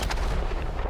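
A crafted gun fires in the Chernobylite video game, giving a single loud, booming shot with a heavy low-end rumble that fills the whole short moment.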